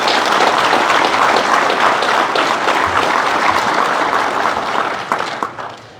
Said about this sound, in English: Mary Beth, a round of applause.